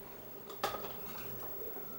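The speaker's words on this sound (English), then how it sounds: "Mix this up real well like this." A utensil stirs pinto beans and ham in a pot, with soft scraping and a single clear metallic clink, all faint and close.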